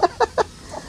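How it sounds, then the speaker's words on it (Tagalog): Farmyard chickens in the Philippines give three quick, close clucks in a row, followed by a fainter fourth call, with no talking over them. "Yung aming makukulit na manok."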